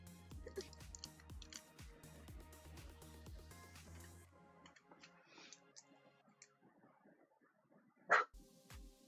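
A single short, sharp dog bark sounds near the end, after a stretch of dense music-like background with clicking that fades to near quiet.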